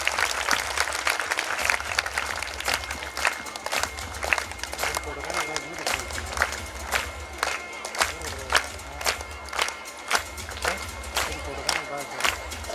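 An audience at a school annual day prize ceremony claps steadily for winning students, a dense, sustained round of applause with scattered individual claps and crowd murmur throughout.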